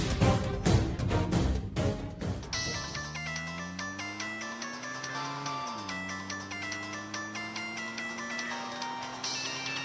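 A phone ringtone for a call from the MRO office, opening with rhythmic beats and then a bright electronic melody that plays on steadily, clear and close.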